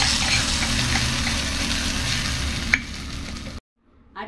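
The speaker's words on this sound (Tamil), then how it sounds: "இப்போ தாளிப்பை கொட்டி எடுத்துக்கலாம்" Steady, loud sizzling of hot oil tempering poured into brinjal chutney, continuous for several seconds, ending abruptly in near silence with a faint stir at the very end.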